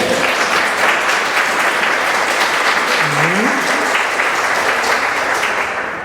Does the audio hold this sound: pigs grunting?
no